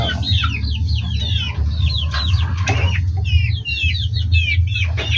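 Chickens cluck and chirp steadily inside a two-level coop, several birds calling close by over a constant low hum, with repeated short squawks throughout.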